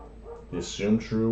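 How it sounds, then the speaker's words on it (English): Dogs bark and yip in the background of a room while a person talks over them; the barks are brief and moderately faint. "Sorry if you can hear the dogs in the background."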